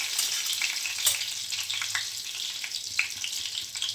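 Cumin seeds and curry leaves sizzle in hot oil for a Gujarati ivy gourd sabzi, giving a close, continuous crackle with sharp spitting pops and no voices.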